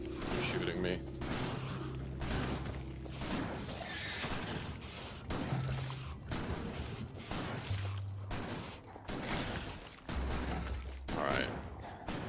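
Continuous rattling gunfire from the factory game Factorio Space Age runs throughout at steady volume, with low game tones and a voice talking over it.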